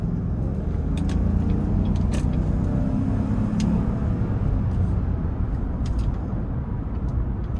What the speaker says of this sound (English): take this 2017 Chevy Tahoe LT out on the road for a test drive